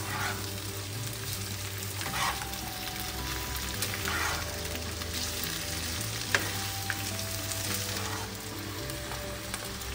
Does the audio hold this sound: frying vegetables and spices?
yes